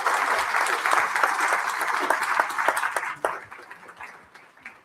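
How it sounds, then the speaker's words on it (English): An audience at a history lunch talk applauds the panelists, a dense, steady burst of many hands clapping that thins and fades out over the last second or two. "let's give our panelists a round of applause"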